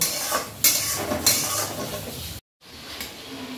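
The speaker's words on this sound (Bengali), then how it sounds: "হলুদের গুঁড়ো দিয়ে একসাথে এগুলোকে ভালো করে কষে নেব" Chili powder, salt and turmeric masala sautéed in a pan for a Bengali fish dish, giving a close sizzle with a few metallic spatula scrapes and clinks, cut briefly by a short silence partway through.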